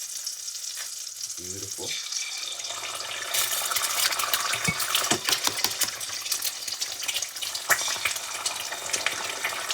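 Eggs cook in butter in a pan with a soft sizzle that swells into steady crackling and spattering, close by, with a brief spoken word early on.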